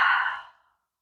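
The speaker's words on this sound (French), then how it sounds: "Et j'expire." A slow, breathy exhale during a chair yoga breathing exercise, close and clear, fading out over about half a second with no talk.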